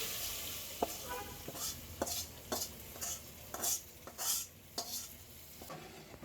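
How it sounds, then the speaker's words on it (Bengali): Papaya dal is tempered in a pot, giving a faint, steady sizzle broken by repeated clinks and scrapes of a spoon against the pot. No one speaks. "এখানে ডালটা বাগার দিয়ে দিব।"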